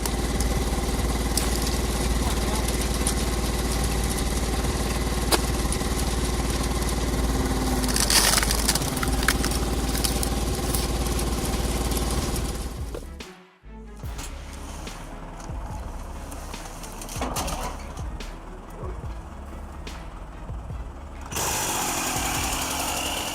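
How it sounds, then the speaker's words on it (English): A tractor-powered hydraulic log splitter working through firewood: a continuous loud engine and hydraulic roar with grinding, crunching surges as wood gives way, a brief drop-out midway, then the machine labouring on. "That tractor-powered splitter is a real workhorse. The hydraulic ram pushes through those logs like butter."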